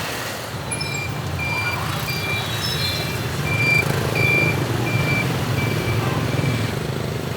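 A noisy Hanoi street carries a dense roar of passing traffic and engines. A truck's reversing alarm beeps at a steady pace above it, and the din swells and fades slightly. There is no speech.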